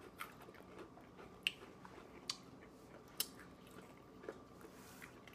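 Crunchy bites into sweet and salty caramel Bugles corn snacks, a few sharp crunches scattered among quieter chewing, close to the mic with no talking.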